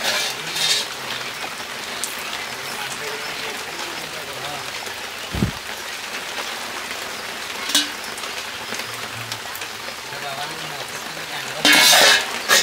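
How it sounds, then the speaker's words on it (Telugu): Heavy rain pours outside during outdoor cooking of a Godavari pulasa fish curry, a continuous loud hiss with occasional sharper splashes and clatter, and a voice speaking at times. "వర్షం సాగొట్టేస్తుంది."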